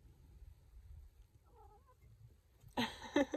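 A cat meowing on a farm, one loud close meow near the end after a quiet stretch with a faint distant call.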